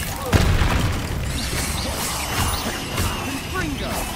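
A Confringo spell explodes in Hogwarts Legacy with a sharp blast near the start, followed by crashing, rumbling battle noise. A voice is heard.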